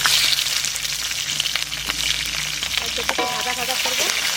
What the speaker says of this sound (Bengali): কড়াইতে তেল আছে, এই তেলের মধ্যে আমি এই ক্যাপসিকামগুলো দিয়ে দেবো।